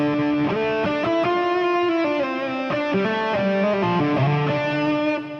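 A distorted, sustained electric guitar fusion lead plays melodic lines through a Fractal AM4 modeling a Dirty Shirley amp, with the low end trimmed, heard loud and alone with smooth legato note changes.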